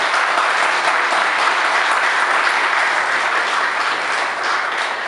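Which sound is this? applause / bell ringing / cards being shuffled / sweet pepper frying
applause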